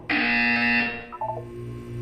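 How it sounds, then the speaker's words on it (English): A loud, steady electronic buzzer from the video game Portal 2 sounds for about a second, then cuts off, leaving quieter background tones. "You will hear a buzzer."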